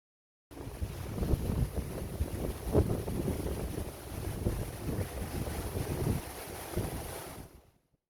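Water rushes at the newly opened Kannankottai Thervoy Kandigai reservoir, a continuous broadband roar with gusty wind buffeting the microphone, steady for several seconds before fading out.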